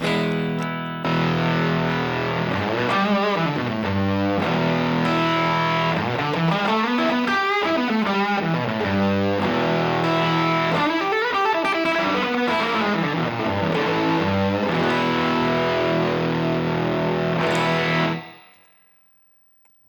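Electric guitar played through a thick fuzz pedal, chords and bending riffs ringing loud and saturated for most of the clip before cutting off.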